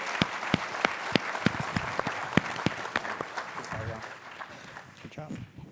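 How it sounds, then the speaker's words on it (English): Audience applause for panelists at a financial inclusion summit, with distinct sharp claps at first that thin into a softer, fading patter, heard at moderate distance. "So let's give our panelists a round of applause."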